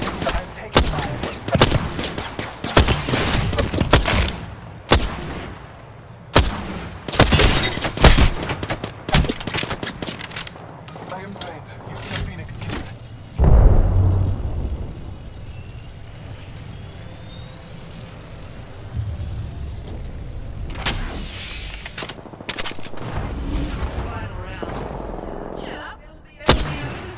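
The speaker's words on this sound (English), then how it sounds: "Inside this ring, I'm taking fire." Loud, repeated gunfire bursts in the video game Apex Legends, with rapid automatic volleys and single shots, then a rising whooshing engine sound before more shots and a rumbling background.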